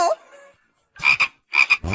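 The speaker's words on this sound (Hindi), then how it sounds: "एक मेढक।" A small frog gives a brief squeak, then after a pause croaks in several close, loud, rasping pulses grouped in pairs, with no talking.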